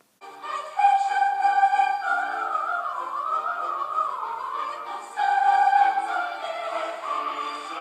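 Handel's Messiah movement "And He Shall Purify" in a brisk passage of running eighth and sixteenth notes, a continuous bright melodic line with accompaniment, steady and moderately loud with a slight swell near the end.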